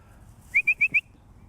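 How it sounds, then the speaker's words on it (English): A person whistles four short, evenly spaced, high notes in a quick rhythmic call to a dog during a quail hunt in northwest Oklahoma, clear against a quiet background. "You notice I'm whistling."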